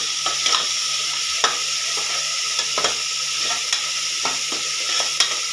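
Sambar ingredients sizzle and fry in a pan while a spoon stirs them, producing a steady close hiss broken by repeated sharp scraping taps, with no talking.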